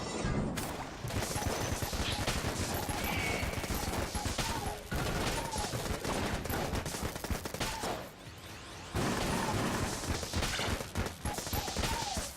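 Fast, continuous machine pistol gunfire from Enter the Gungeon rattles almost nonstop, layered with loud game effects and music, with a short dip in the shooting near the end.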